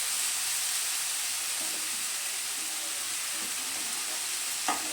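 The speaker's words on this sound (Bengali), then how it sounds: "খুব ভালো করে নেড়ে চেড়ে সবজিটা আমি ভেজে নেব" Vegetables stirred and fried in a pan hiss with a continuous close sizzle, broken by a few soft spatula scrapes and one sharp knock near the end.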